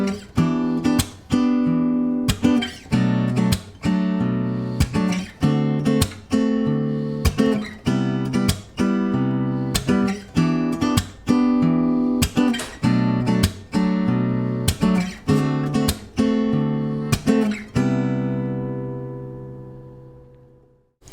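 Guitar chord progression of major 7, minor 7 and dominant 7 chords played alone with a steady picking pattern, each chord struck and ringing before the next, at an even moderate pace.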